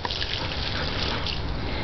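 Water runs steadily from a tap into a sink, a constant broad rushing and splashing that holds at an even level throughout with no voices.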